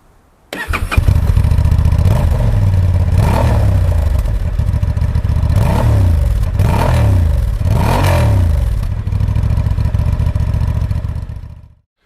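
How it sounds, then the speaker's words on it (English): A Honda XL750 Transalp motorcycle's exhaust barks through a series of sharp, growly revs, loud and close, with the engine idling steadily between blips before cutting off. "the exhaust note is pleasantly growly"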